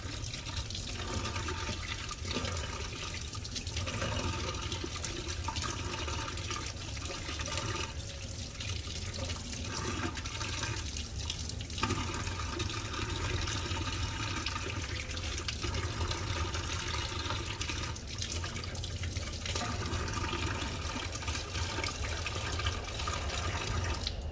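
Water running from a tap over Phalaenopsis orchid roots as they are washed, a steady, close splashing rush with small drips and shifts in flow, continuing without pause.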